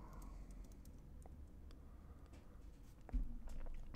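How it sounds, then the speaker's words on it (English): Arrow keys on a computer keyboard tapped while aligning a design in Canva, a few soft, sparse clicks over low room noise, with one louder knock near the end. "I'm gonna use my arrows on the keyboard to help align it a little bit."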